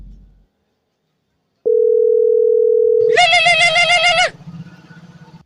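A phone call rings out: a steady electronic tone holds for about a second and a half, then a brief warbling ringback-style melody follows before it cuts off, all clear and alone.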